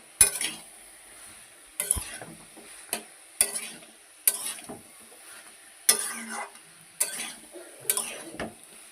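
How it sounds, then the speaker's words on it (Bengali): Food frying in a pan gets stirred repeatedly, a spatula scraping and knocking against the metal in uneven strokes over a steady soft sizzle, close and fairly loud. "ভালো করে নাড়িয়ে নিচ্ছি।"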